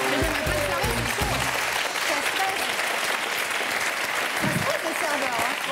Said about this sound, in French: On applaudit notre fiancé.